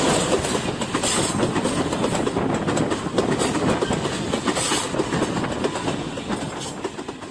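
Banalata Express train running in Bangladesh, a steady loud rumble with clickety-clack of wheels on rails throughout, close by and continuous, with no voices.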